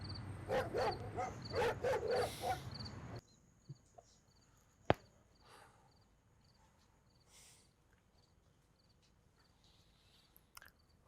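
A dog barks several times in quick bursts up close during the first few seconds, then the scene drops to a quiet room with faint ticking and a single sharp knock.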